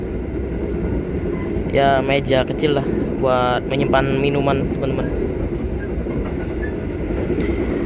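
An economy-class Gunung Jati passenger train rolls along with a steady low rumble and rattle throughout, while a person talks over it in the middle.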